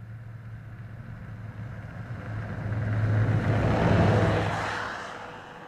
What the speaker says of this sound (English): the effects of over snow vehicle noise on the park